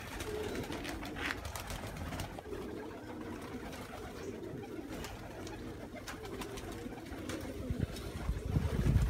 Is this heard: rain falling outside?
no